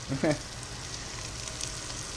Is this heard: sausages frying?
yes